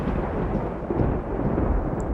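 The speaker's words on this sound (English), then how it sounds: "Thunder rumbled." A deep, steady rumble of thunder rolls on for a couple of seconds, loud and low, with a hint of rain beneath it.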